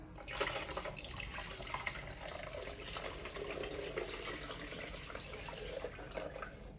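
A continuous, fairly quiet stream of diluted sterilising fluid and water runs and splashes into the water tank of a Tommee Tippee Perfect Prep machine, steady throughout with no talking.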